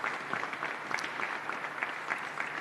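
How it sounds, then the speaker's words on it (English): A small crowd outside a cathedral at the funeral of John Hume in Derry claps steadily, a dense patter of applause heard from a moderate distance. "Applause now from the limited audience beyond the church today."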